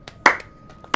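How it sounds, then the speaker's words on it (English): A couple of sharp hand claps, close and quick, the second louder, with a final clap cut off at the end. "I use my inspiration to clap."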